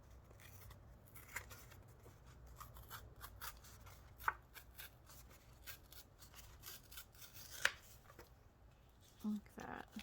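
Scissors snip a strip of paper at a craft table, with scattered soft cuts and rustles and a few sharper snips standing out over quiet room tone; a voice talks faintly in between.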